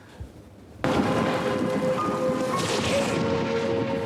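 Sudden loud thunderstorm in a film scene: after a quiet start, a crash of thunder breaks in and heavy rain roars steadily on, dense and close, with rolling rumble beneath and no voices.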